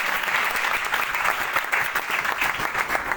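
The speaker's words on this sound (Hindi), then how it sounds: "जोरदार तालियां बजाएं" A church congregation in Chaklala, Pakistan claps enthusiastically during worship, dense steady applause filling the whole stretch at a fairly loud, even level.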